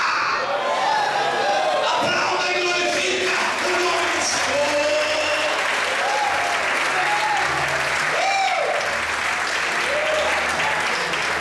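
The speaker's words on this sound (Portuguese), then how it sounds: "Aplauda e glorifica o nome do Senhor" A church congregation bursts into dense, sustained applause, loud and close throughout, with scattered cheers and shouted voices mixed into the clapping.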